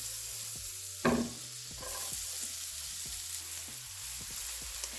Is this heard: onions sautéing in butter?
yes